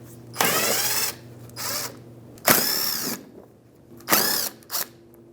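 Power drill fitted with an 8mm socket spinning out fender liner bolts on a 2007-2015 Mazda CX-9, three separate loud whirring bursts with short pauses, close up and free of talk.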